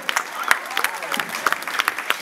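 An audience at a community dictation contest in Massy applauds the winner: brisk, dense clapping from a crowd, close and steady throughout with sharp individual claps standing out.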